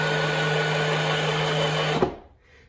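Motors on a Hikiddo 12V kids ride-on ATV spin the lifted wheels at high speed, giving a steady, loud electric whine. It cuts off abruptly with a click near the end, and then only a quiet fade remains.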